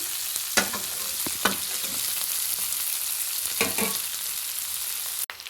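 Small pieces of food frying in a pan on low gas until browned: a steady soft sizzle throughout, close by, with a few spoon stirs and scrapes and a sharp clack at the end.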